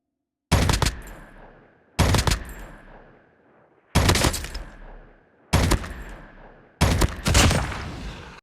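Five separate loud bursts of Call of Duty Mobile gunfire, each a short rapid volley with bullet hit sounds, come at roughly regular intervals with silence between them.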